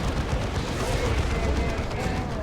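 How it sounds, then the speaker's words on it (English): Side cannon fire from units in Warhammer 40,000: Dawn of War 2, a dense rumbling barrage of booming shots that holds steady and loud through the short stretch, with a voice talking over it. "putting these guys on range stance so they can shoot their side cannon here"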